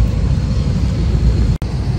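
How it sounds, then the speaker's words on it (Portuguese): A Latam passenger jet begins taxiing for departure at Guarulhos airport near midnight, producing a steady, loud broadband engine rumble that continues throughout, broken only by a brief dropout. "O avião acabou de começar a sair."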